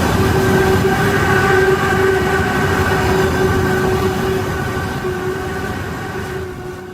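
A Penn Central train rolls past in the Roblox RO-Scale rail game, a loud steady rumble with a sustained tonal whine that slowly fades toward the end, no voices.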